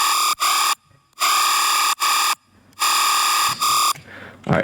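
Brostep sustain bass synth in a heavy dubstep style: bright, buzzing, wide high-frequency tones held in three loud sustained blocks separated by short gaps, ending in a noisier burst, with no voices.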